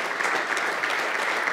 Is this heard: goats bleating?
no